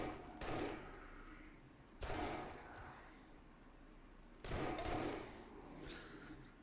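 Gunshots in the survival game 7 Days to Die, three separate loud bangs spaced about two seconds apart, each with a ringing decay, over a quiet background.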